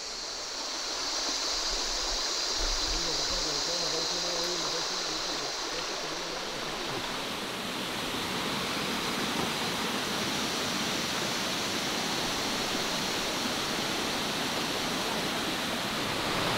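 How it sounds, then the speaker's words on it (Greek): The waterfall of the Quebrada Bonita river in Panama roars steadily and broadly, a continuous close rush of falling water throughout, with faint voices briefly audible beneath it at the start. "Φτάσαμε στο καταράκτη."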